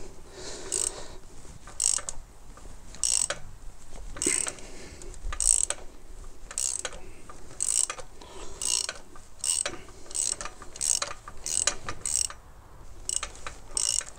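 A ratchet wrench loosens bolts during an oil change on a Ford S-Max with a 2L TDCi 140 hp engine, with a rapid series of sharp metallic clicks in bursts, close and fairly loud, no talking.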